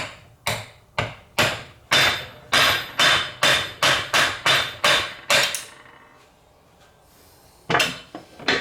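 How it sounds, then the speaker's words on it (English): A series of sharp, heavy lead hammer blows on a metal part of a Kawasaki Ultra 150 jet pump, struck in a steady rhythm, then a pause before a few more strikes; close and loud. "we'll use a lead hammer"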